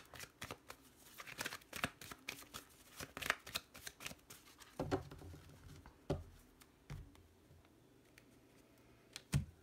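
Lenormand cards being cut and shuffled close up: quiet, irregular bursts of card riffles and taps with soft flicks between them, fading toward sparse clicks near the end.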